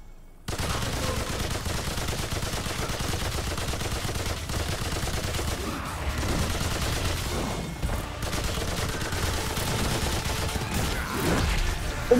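Sustained gunfire in the video game Remnant II, rapid overlapping shots and bursts rattling continuously and loudly for several seconds.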